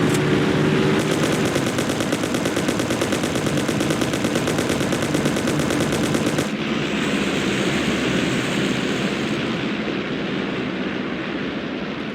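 Gunfire in the Mafia video game fires as a long rapid burst of automatic shots for several seconds, loud and close. It then gives way to a rumbling, vehicle-like roar, with no talking heard.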